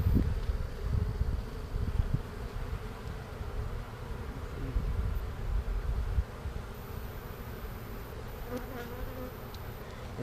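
Honey bees hum steadily around an open hive during a brood check, a dense low drone close by with no talk over it.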